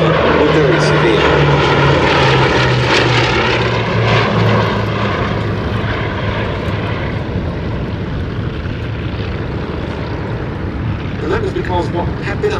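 A Bristol Blenheim Mk I twin-engine propeller bomber flies past at a Battle of Britain air show, its steady loud droning engine roar holding throughout with a slight pitch shift as it passes, a voice talking over it.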